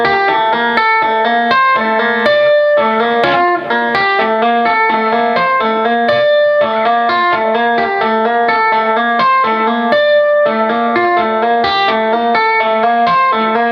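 Electric guitar plays the outro riff of a song, a steady clean picked arpeggio with effects-laden chorus and reverb shimmer, loud and alone with no talking.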